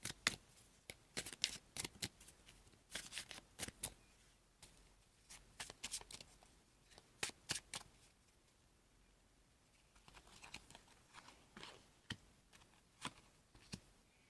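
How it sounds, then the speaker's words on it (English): A deck of tarot cards is shuffled by hand close to the microphone, with quiet riffling and irregular bursts of crisp slaps and flutters, no voices. "I'm going to shuffle some extra cards and see what June has for love for"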